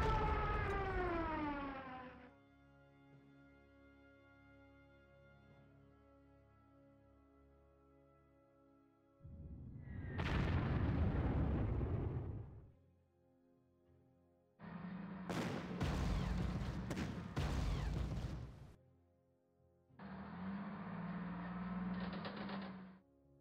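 A Stuka dive bomber attack in the Panzer Corps strategy game: a descending siren wail, then a series of loud explosion and gunfire bursts separated by short gaps.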